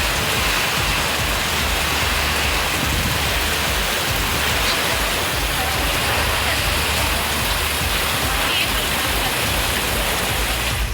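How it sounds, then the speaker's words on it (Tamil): Heavy rain pours down during a sudden thunderstorm in Sivaganga district, Tamil Nadu, making a dense, steady roar that stays constant throughout with no pauses. "திடீரென இடி மின்னலுடன் பெய்த கனமழையால் வெப்பம் தணிந்து குளிர்ச்சி நிலவியது"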